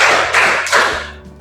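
A classroom of children claps hands together in three counted bursts, each a loud wash of many hands that decays briefly before the next, ending with a short voice.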